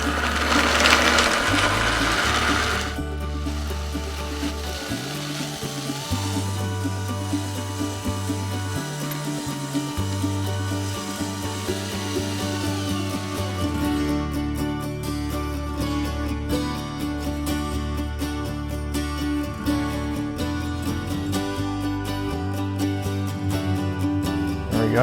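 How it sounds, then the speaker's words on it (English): A Vitamix high-speed blender blends a beet smoothie, giving a loud, continuous whirring roar that holds steady for about twenty-five seconds with no talking. "you need a high-speed blender. We're using Vitamix today."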